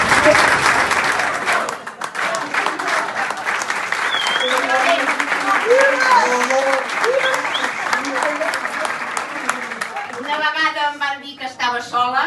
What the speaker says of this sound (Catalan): Us mereixeu un fort aplaudiment